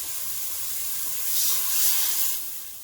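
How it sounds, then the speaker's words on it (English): Water poured into a hot pan after browning beef for a pot roast hisses and sizzles, a loud steady steam rush that swells midway and then eases, with no talk. "I'm going to go ahead and add some water so it'll stop that."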